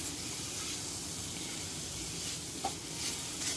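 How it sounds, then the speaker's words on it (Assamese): Pitha mixture frying in a pan, a steady soft sizzle and hiss running throughout with one small pop, fairly quiet and without any voices. "আৰু এতিয়া আমি এইখিনি ভাজি ল'ম"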